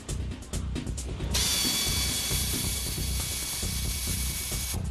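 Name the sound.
hand cranking a Porsche axle during dismantling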